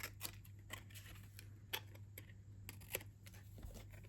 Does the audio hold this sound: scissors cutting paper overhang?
yes